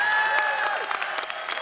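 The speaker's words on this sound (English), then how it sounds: "That was not the applause I was expecting, but it seemed a little bit subdued." A short burst of subdued clapping from a crowd at a medical school commencement ceremony, scattered hand claps over a faint murmur.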